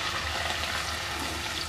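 Diced tapioca (cassava) going into hot oil with chillies for a Kerala thoran. A steady, close, even sizzle and crackle fills the whole short stretch without any talk.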